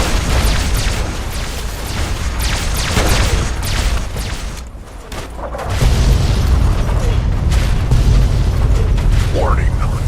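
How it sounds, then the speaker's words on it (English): Artillery explosions in the video game Fallout 3, heavy booming blasts and rumbling impacts that persist loudly throughout, with a brief dip before a deeper, sustained roar resumes, alongside a game voice and mechanical effects. "Warning. Forcible impact alert. Scanning for Chinese artillery."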